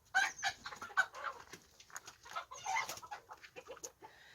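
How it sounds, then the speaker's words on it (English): Chickens cluck and squawk inside a home-made backyard coop, several birds close by with bursts of busy chatter and short calls, no talk over them. "the chickens are being silly"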